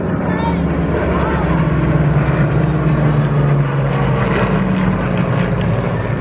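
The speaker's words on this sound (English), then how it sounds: "Two fighters now coming towards the end of their sequence." Loud, steady propeller-engine drone of a low-flying Hawker Hurricane and Spitfire at an airshow, a deep throbbing roar that holds throughout with a slight rise and fall.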